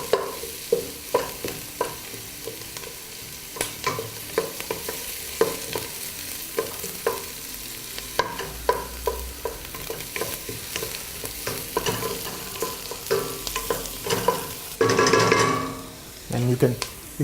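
Garlic and onion fry in olive oil for linguine mare e monte, a steady sizzle broken by repeated stirring scrapes and utensil knocks, with a louder hiss burst near the end.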